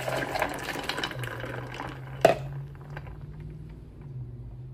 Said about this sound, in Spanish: Voy a agregar más agua. Le voy a agregar 1 litro de agua.